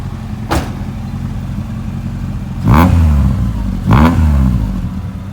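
A Honda car fitted with a Vibrant exhaust idles with a low, steady rumble, then gets two short, sharp revs a second apart before settling back to idle.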